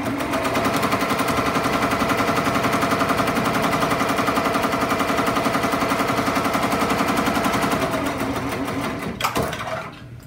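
A Ricoma MT-1501 embroidery machine stitching down appliqué fabric on a shirt pocket, a loud, rapid, even mechanical rattle that runs steadily and stops near the end.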